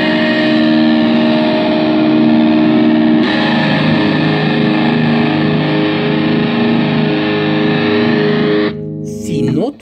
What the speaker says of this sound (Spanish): Cuando accione la distorsión, eso crujiente, que le da como medios. Va a sonar así con la distorsión,